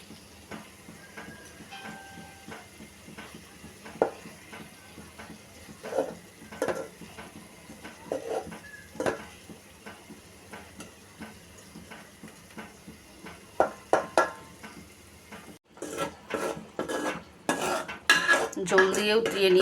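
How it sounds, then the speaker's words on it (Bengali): Fried rohu fish is stirred through spice paste in a pan, with repeated metal clinks and scrapes of a utensil against cookware over a faint sizzle, growing busier and louder near the end. "মশলার সাথে মাছ আর একটু নেড়ে ছেড়ে কষিয়ে নিচ্ছি।"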